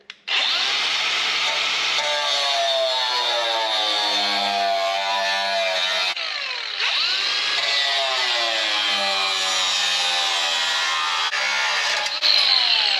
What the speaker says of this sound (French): je vais entailler un carré ici après